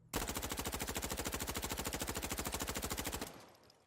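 Sustained automatic gunfire from a rifle in the video game Insurgency: Sandstorm, a loud, rapid, evenly spaced burst of roughly three seconds that stops abruptly, leaving a brief fading echo.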